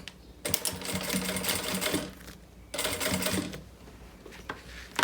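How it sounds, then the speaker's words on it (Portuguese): A sewing machine stitches along the bottom of a fabric backpack, running in two rapid mechanical bursts separated by a short pause, loud and close with no talk. "Agora, é só passar a costura aqui na parte de baixo"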